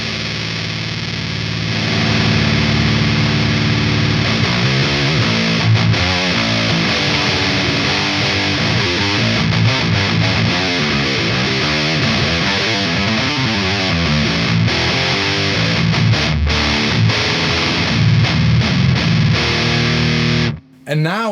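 Heavily distorted metal guitar riffing through a Big Muff fuzz pedal blended with a REVV distortion, dense, loud and continuous chugging that cuts off abruptly near the end.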